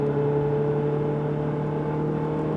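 A Ferrari engine on a track in Issoire pulls steadily under acceleration, a loud, close, continuous drone with strong steady tones and no break.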